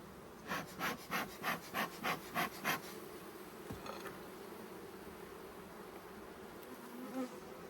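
Agitated honey bees hum in a steady, faint buzz over an open hive during a brood inspection, with a string of rhythmic, breath-like puffs near the start.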